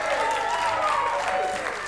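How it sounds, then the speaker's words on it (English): Television studio audience applauds loudly and continuously, dense clapping with voices mingled in the background. "Let's hear your applause"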